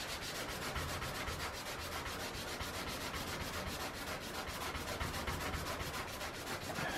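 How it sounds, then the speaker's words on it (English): Steady hand sanding of bondo and paint on a Dodge Ramcharger body, a close, even, rhythmic rasp of abrasive strokes continuing without pause and with no talk. "I'm gonna keep sanding"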